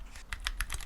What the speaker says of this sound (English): It's whoosh and typing.